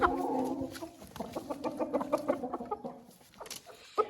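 Young hens kept apart from older birds, sheltered indoors during winter frost, cluck in a quick uneven series of short calls, close and fairly quiet, with one sharper squawk near the end.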